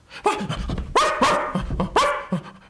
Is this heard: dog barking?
yes